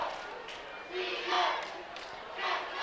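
A home crowd of high school football fans from Capital, travelling from Olympia to Shelton, chants in swelling rhythmic waves late in a game, filling the space at moderate distance with a broad roar.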